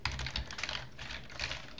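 Fingers type rapidly on a computer keyboard, a quiet, close stream of light key clicks with brief irregular pauses and no talking.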